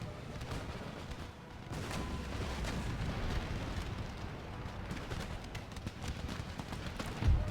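Artillery fire rumbles in the video game Empire Total War, a steady dense din of distant booms and scattered gunfire with a heavier thump near the end.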